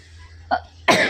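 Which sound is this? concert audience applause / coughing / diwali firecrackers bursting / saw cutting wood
coughing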